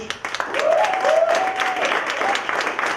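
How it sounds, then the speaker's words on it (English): Audience applause at a stand-up comedy show, a steady wash of clapping lasting several seconds at moderate loudness, with a voice speaking over it. "you better clap"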